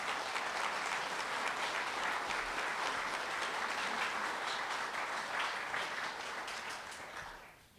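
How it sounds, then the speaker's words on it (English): Steady applause from a gathered crowd for fire department staff at a fire chief's retirement celebration, moderately distant and even, tapering off at the end. "Again, round of applause for all of them as well."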